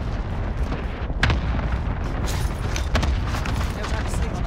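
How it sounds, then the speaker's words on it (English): An incoming cluster strike in a multiplayer shooter video game, a loud, continuous rumble of explosions with a few sharper bursts standing out, mixed with game noise and talk. "Enemy cluster strike incoming."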